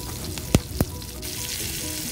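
Turmeric, shredded ginger, green chilies and curry leaves fry in hot oil for potato veg puffs, a steady close sizzle with two sharp spatters early on and no talk.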